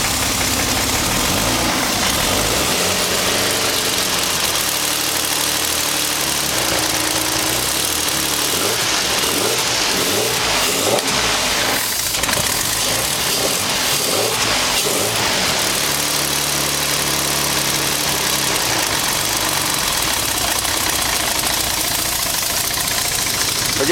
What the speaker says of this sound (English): It fires right up.